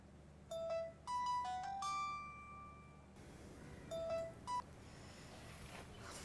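A phone being dialed for a call: a few short, clear electronic tone beeps at varied pitches, then after a pause two more beeps, quiet and close in a hushed room.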